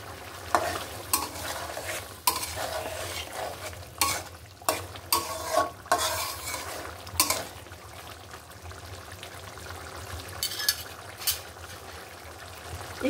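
An egg fries in a pan with a bright, steady sizzle, broken by sharp utensil knocks and scraping strokes, close by and with no one talking.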